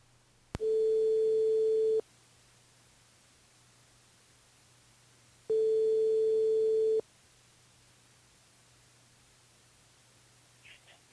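A telephone busy tone sounds after a call drops during a radio phone-in, two loud steady beeps of about a second and a half each, separated by several seconds of quiet line hiss.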